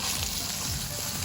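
Chicken hits hot oil in a frying pan for Filipino laing, giving a loud, steady, close-up sizzle that holds without pause and has no talking over it.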